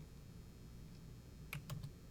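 A few quick, light taps on a computer keyboard enter a search, faint and close against a quiet background with no talking.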